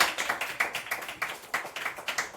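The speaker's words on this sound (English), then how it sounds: "Round of applause for Fiona." A small comedy-show audience in County Kerry claps in a quick, uneven burst of applause, moderately faint, with no voices over it.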